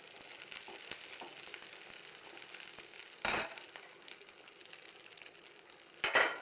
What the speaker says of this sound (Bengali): মাছগুলো আবার একটু তেলেতে রান্না করে নেব